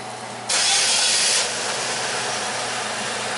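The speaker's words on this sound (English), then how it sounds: "Alright, car's running." A Chevy Equinox engine cranks and starts with a loud whirring rush, then settles into a steady, fairly close idle with no talk.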